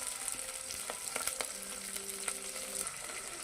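Curry leaves and coriander hit hot oil in a pan while cooking sambar, giving a faint, steady sizzle with a few small crackles and pops.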